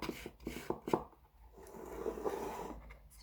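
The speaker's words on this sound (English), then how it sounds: "you can hear the sound, just smoothing that down." Soft rasping strokes from smoothing down wood inside a small painted treasure chest. A quick cluster of short rubs comes first, then a gentler, longer scraping pass, all quiet and close-up with no voices.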